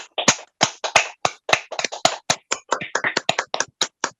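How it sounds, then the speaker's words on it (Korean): A church congregation claps during a Sunday worship service, giving a loose, irregular run of sharp individual claps that sound close and distinct, with silence between the beats. "하나님께 박수로 영광을 드리겠습니다."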